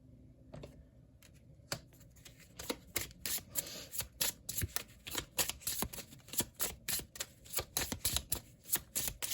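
Tarot cards are shuffled by hand in a quiet room, a run of crisp riffling snaps and soft flicks that quickens into a dense, irregular patter, close and fairly faint.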